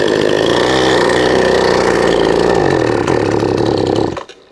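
A chainsaw engine mounted on a homemade mini scooter runs loud and steady with a buzzing two-stroke drone, then cuts out abruptly near the end, leaving near silence.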